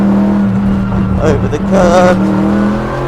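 Race car at Spa Francorchamps, engine note climbing loudly under full power with rising harmonics, with a brief dip as the driver lifts, and a voice speaking over the engine.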